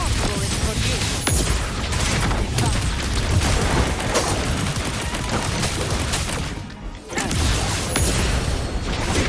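Heavy, sustained volleys of gunfire on a battlefield in the Wuthering Waves video game, loud and continuous with a short lull near the end, and faint voices mixed underneath.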